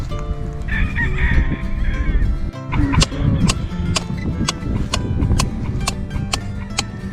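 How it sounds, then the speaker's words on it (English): Chickens on a rural homestead cluck and call near and far, with a rooster crowing and rhythmic ticking taps running through the steady, busy farmyard din. "or if you love the sound of chickens"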